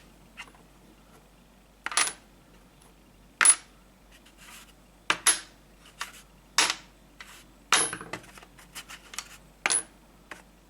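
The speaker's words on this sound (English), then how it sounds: "makes a lot less noise because it's a lot lighter and it's not a heavy metal, it's just aluminium" A light aluminium French franc coin drops several times onto a hard surface, each landing a short, thin metallic clink with a brief rattle, separated by pauses.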